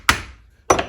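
Two sharp knocks about half a second apart as a small part is tapped into a Dinky Jaguar toy car under repair, close and fairly loud, the second followed by a brief rattle.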